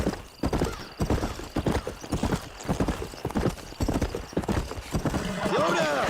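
Horse hooves clip-clop in a steady rhythm in the Red Dead Redemption video game, joined by a whinny near the end, while a person talks over much of it.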